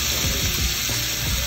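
Fatty meat sizzling on a 2-in-1 Korean barbecue grill and hotpot combo, a loud, close, continuous crackling hiss that fills the short moment without any voices.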